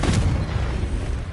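A Confringo fire spell blasting in the video game Hogwarts Legacy: a loud, booming burst that rumbles and then decays steadily.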